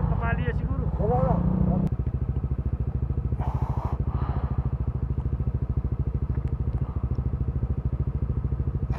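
A motorcycle on a mountain highway, its engine running in a steady, rapid, throbbing rhythm close by, with voices talking briefly at the start.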